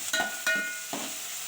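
Capsicum and green chillies frying in a pan: a steady bright sizzle with a few short stirring scrapes, close and moderately loud, with no talking.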